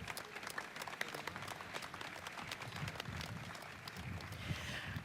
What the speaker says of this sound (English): Ladies and gentlemen, please give a round of applause to these stakeholders.